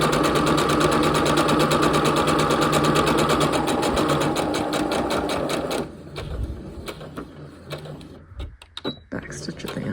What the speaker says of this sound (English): Make sure you back stitch at the beginning.